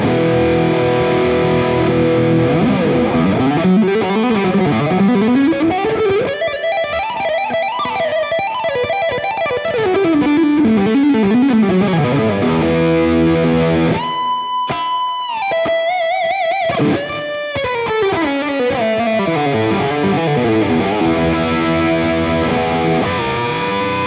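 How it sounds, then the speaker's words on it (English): An Aria Pro II 718-MK2 Brooklyn electric guitar plays fast shred runs through heavy gain with reverb and delay, a distorted tone sweeping up and down in rapid bends and trills, loud and continuous with no talking. "we're going to throw on a load of gain and we're going to put on the reverb and delay"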